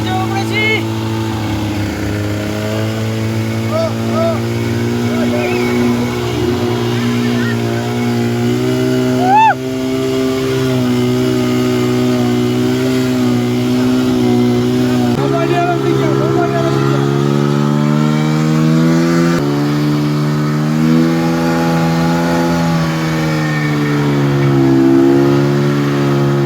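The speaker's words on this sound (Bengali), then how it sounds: "স্নো বাইক চেপে উপরে চলে এলাম" A snow bike engine climbing uphill in the snow at Sonmarg, Kashmir, a loud, steady motor drone whose pitch rises and shifts as it works up the slope, with a voice faintly present underneath.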